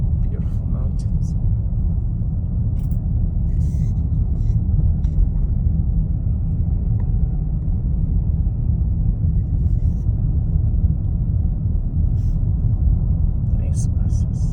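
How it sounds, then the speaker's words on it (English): Heavy tourist buses rumble past in a mountain town, a loud, steady low engine drone that lasts throughout, with a person talking over it. "Tourist town. Tourist buses."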